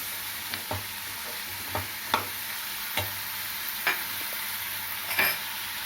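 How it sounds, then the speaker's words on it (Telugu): A spoon stirs boiled chickpeas into sizzling masala in a pan for chana masala curry, a steady close frying hiss broken by regular scraping strokes about every half second, with no voices. "ఇందులో శనగలు కలిపి"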